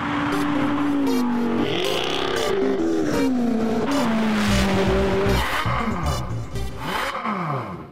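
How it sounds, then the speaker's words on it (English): Porsche 911 GT3 of the 992 generation driving hard, engine revving up and shifting through gears with high-pitched howls, tire squeal in places, loud and continuous. "This is the Porsche 911 GT3, model designation 992"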